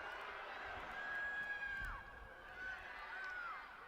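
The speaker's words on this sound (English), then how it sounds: "Welsh crowd urging their side forward" Welsh football supporters in a stadium crowd keep up a steady, broad roar of cheering and urging, with whistles and shouts rising and falling throughout, heard at a distance as a continuous wash of noise.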